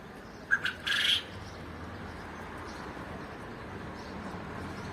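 A few short bird chirps early on in a garden, then steady outdoor background noise with no further calls.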